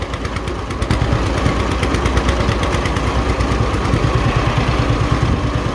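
Engine with a loaded-up carburetor running steadily and loud up close, a rough, pulsing idle with a fast, uneven chug and no voices over it.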